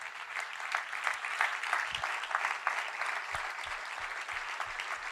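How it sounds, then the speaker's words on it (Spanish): A church congregation claps together, a steady moderately loud wash of applause with a few scattered stronger claps, continuing throughout without speech. "Denle un aplauso, aleluya."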